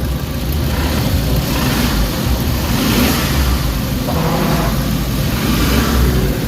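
A fuel-injected Suzuki Carry with low power and engine knocking runs close and loud, holding a steady idle-like drone with a couple of revving swells in the middle.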